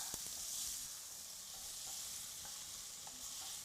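Vegetables sizzle steadily in a pot for braised short ribs, a continuous frying hiss with faint scraping as they are stirred around, close and even throughout.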